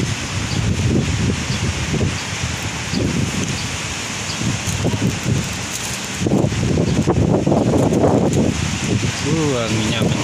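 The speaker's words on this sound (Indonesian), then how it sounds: "Anginnya kencang sekali." Strong wind drives morning rain in a loud, steady rush, with leaves rustling and gusts swelling toward the end.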